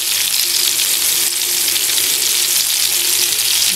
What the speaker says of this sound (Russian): Да, пускай жарятся. Ну, процесс идет сразу на 2 сковородках.